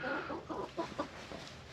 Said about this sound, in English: the chicken's out here helping me do some mechanicking